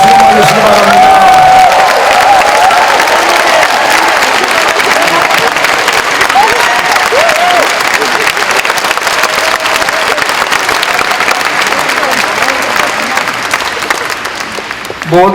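A large audience at a Korean church mission conference breaks into loud, sustained applause and cheering for a speaker coming forward, a dense roar of clapping with occasional whoops that continues for about fifteen seconds before tapering slightly.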